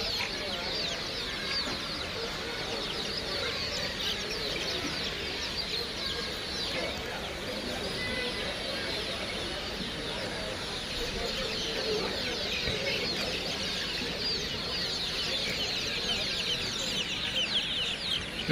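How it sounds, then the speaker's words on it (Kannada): Kadaknath chicken chicks at a poultry stall of an agricultural fair in Bengaluru chirp and cluck continuously, a dense busy chorus of many birds close by, with crowd chatter mixed in throughout. "ಇವು ಕಡಕ್ನಾಥ್ ಕೋಳಿ ಮರಿಗಳು."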